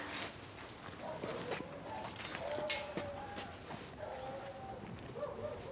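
A dog barks a few times at a distance amid a busy, noisy indoor background.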